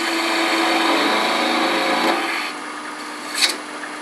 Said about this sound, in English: Now I'm going to use a 3/8 inch beating and parting tool for some of this work.